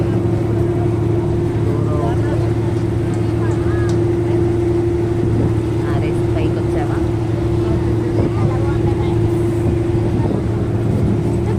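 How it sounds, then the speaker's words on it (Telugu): Large boats or ships travelling on the Ganga river, a steady low engine drone with strong hum running the whole time, continuous and fairly loud, with faint background voices underneath. "అది ఒక పెద్ద బోట్ అనమాట, షిప్స్ అవి"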